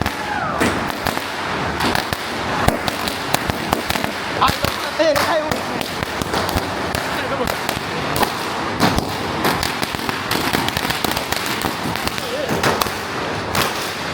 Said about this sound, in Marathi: फटाके वगैरे वाजवले